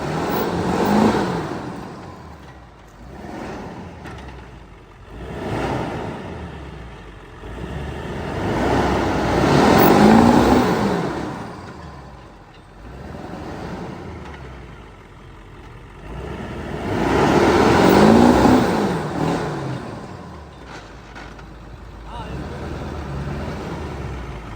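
A mud truck engine revs hard in repeated surging bursts, each swell rising loud and then easing back, with rough broadband roar between the pushes.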